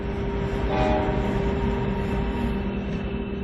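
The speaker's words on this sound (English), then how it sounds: "So, bring on a pair of NJ2 locos." Pair of NJ2 diesel-electric locomotives, 138-ton units with 8,000 horsepower combined, running on a high-altitude railway: a loud steady engine drone and rail rumble with a brief horn-like tone, continuous and close.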